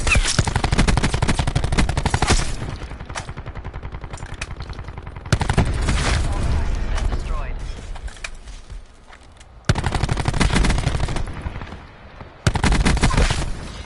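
Maddox rifle automatic fire in Call of Duty Black Ops 4, loud close bursts of rapid shots separated by brief pauses, several sustained volleys with tails of quieter game ambience between them.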